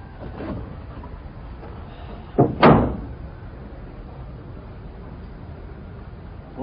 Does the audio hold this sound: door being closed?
yes